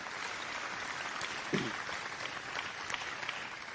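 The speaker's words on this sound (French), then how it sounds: "Ça vaut peut-être quelques applaudissements." An audience in the French Senate chamber applauds during an opening ceremony, a diffuse, moderate wash of clapping heard from a distance, with one brief louder knock partway through and no voices.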